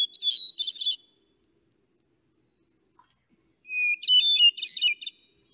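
A songbird of the bluebird, robin and thrush family sings two short phrases of clear, fluting whistled notes separated by a few seconds of silence, close and distinct.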